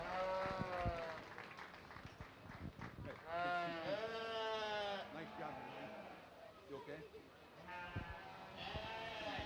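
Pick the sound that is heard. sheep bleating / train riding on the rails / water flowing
sheep bleating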